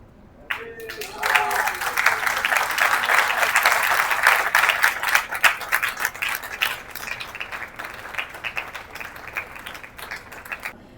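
A theatre audience breaks into loud, sustained applause to welcome a legendary film star, dense clapping swelling quickly and holding for several seconds before thinning slightly, with a voice briefly heard at the start.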